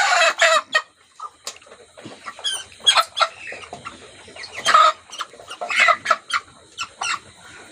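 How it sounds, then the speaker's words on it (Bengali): Colour bird hens cluck nearby in bursts of sharp, irregular calls with brief pauses between them, some rising into louder squawks, loud and close with no speech. "এটা আপনার এই মুরগিটা, এটা মুরগি, মোরগ না"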